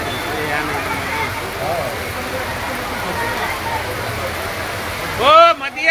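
Heavy rain falling steadily at an outdoor gathering around a statue, a dense continuous wash of drops with a louder burst of noise near the end.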